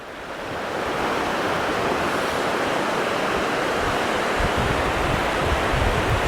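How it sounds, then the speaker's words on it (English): Ocean surf rolling in steadily and loud, a dense continuous roar of breaking waves on a fishing beach with some wind buffeting the microphone, no voices. "Surf seems to have built quite a bit."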